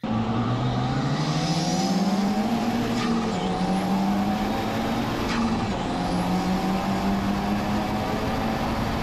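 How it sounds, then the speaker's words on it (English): A Honda B-series engine revs somewhere in the background, its rising and falling tone steady and moderately loud, with a continuous mechanical drone under it for the whole stretch. "there's a B Series revving up in the background"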